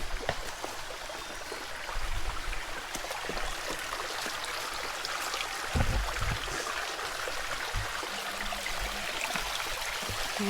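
Stream water rushes steadily over rocks on a hillside, a continuous, fairly loud hiss and gurgle without pause, with a few brief knocks.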